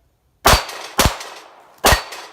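Pistol shots at steel plate targets on a shooting range: three loud, sharp cracks, the first two about half a second apart and the third after a longer gap, each with a brief ringing tail and no talking.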